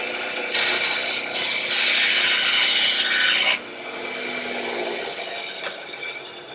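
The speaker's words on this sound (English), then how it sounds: "Just gotta go trim that off with the bandsaw." A bandsaw trimming a wooden part for an International 2.4mR sailboat build: a loud, close, steady rasping cut lasting about three seconds, then the blade running on alone more quietly as the saw keeps humming.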